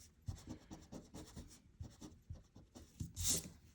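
An eraser scrubs over a pencil drawing on paper in quick, close back-and-forth strokes, a steady papery rubbing that continues with brief pauses and a sharper scratch near the end.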